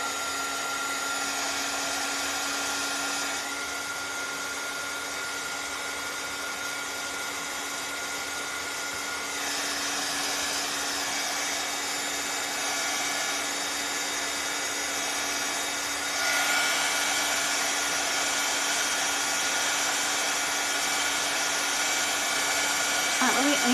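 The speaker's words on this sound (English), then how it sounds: "I'm gonna hit it with the dryer real quick first." A hair dryer blows on wet paint with a steady, close whir, its pitch and level shifting slightly a few times as it runs continuously.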